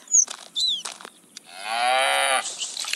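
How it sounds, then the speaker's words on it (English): Cows moo in the farming video game Harvest Town, with one long, loud, close moo following short birdlike chirps in the game's ambient nature sounds. "It's just nice ambient nature sounds. The birds, the cows, the trees."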